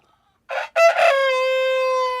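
A rooster gives one loud, close, drawn-out crow that rises after two short opening bursts and holds a long ringing note, with no talk over it.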